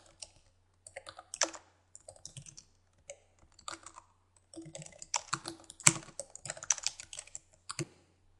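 Close, quiet typing on a computer keyboard comes in irregular bursts of clicking keystrokes separated by short pauses, with no speech over it.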